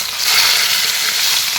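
Fish frying in hot oil in a pan during cooking of a fish curry, a loud, steady close-up sizzle that crackles on without pause.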